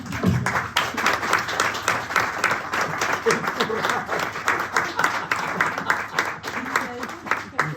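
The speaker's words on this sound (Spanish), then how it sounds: "podéis aplaudir" An audience at a university talk applauds in a sustained, rhythmic patter of clapping, with voices talking over it throughout.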